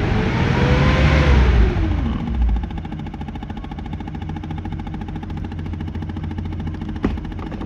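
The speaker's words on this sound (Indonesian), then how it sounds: "Mesinnya sangar bosku, kayak mesin bis" A high-mileage used car engine with 442,000 km runs with a deep, heavy, bus-like rumble. It is loud and close at first and then settles into a steady running drone, with a brief knock near the end.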